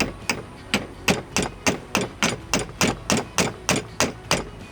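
Small hammer taps a gear onto its keyway shaft in a steady rhythm, about fifteen crisp, close metallic knocks evenly spaced with no talking.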